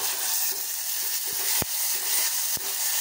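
Onion, tomato and ground spice paste frying in a little oil for moringa soup, a loud, dense, continuous sizzle close up, broken by a few quick stirring scrapes.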